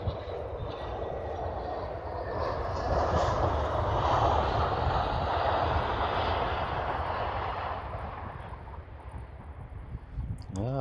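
A KLM airliner comes in to land at Brussels Airport on a windy day, a broad jet roar that swells and holds, then slowly fades, heard from a distance.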